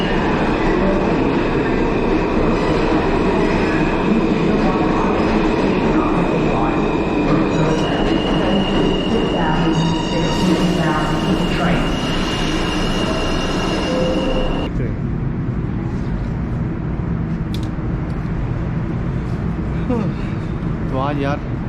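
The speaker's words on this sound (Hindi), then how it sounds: "एफ ट्रेन आ रही है 1 मिनट में" A New York City subway F train pulls into the station with a loud, steady rumble, screeching wheels and rail noise, then squealing brakes and hissing as it slows, while a person talks over it.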